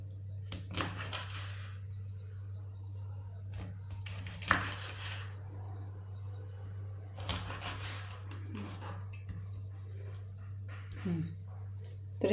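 Bangda mackerel being cut in a home kitchen. A knife chops and taps sporadically against a board amid light clatter, over a steady low hum, with someone talking at times.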